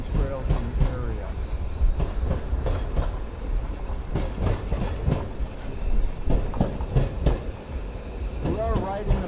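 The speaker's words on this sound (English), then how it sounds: "We are riding aboard on a historic piece of railroad here." Historic Lake Superior & Mississippi Railroad train rolling along its track beside the Saint Louis River estuary near Duluth, with a steady rumble and irregular wheel clatter running throughout, and people talking over it at moments.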